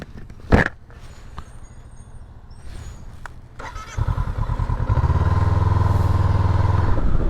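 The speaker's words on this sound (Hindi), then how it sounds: "सिर्फ बाइक की आवाज़ सुनाई दे रही है" A motorcycle rides through a quiet Japanese residential neighbourhood, its engine rising from a low idle into a steady, close, droning rev that holds to the end after a few sharp knocks.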